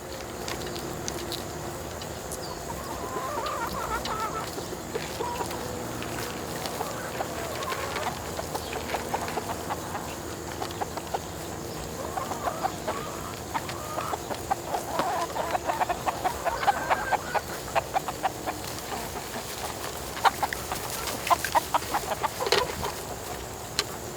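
Chickens on a family farm cluck continuously at close range, with overlapping calls and sharper squawks growing busier toward the end, over a low outdoor background.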